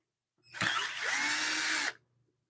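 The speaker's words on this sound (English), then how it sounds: "Let me get this screws off of here." A power drill spins out screws from a lathe faceplate. It makes one whirring burst of about one and a half seconds that starts with a clunk, holds a steady, fairly quiet whine, and then cuts off.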